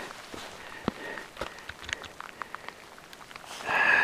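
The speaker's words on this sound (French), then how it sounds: "eh bien là j'y arrive sous la pluie" Rain pattering on a hiking trail in the Gorges du Tarn, soft scattered drops alongside footsteps, with a louder burst of rain near the end.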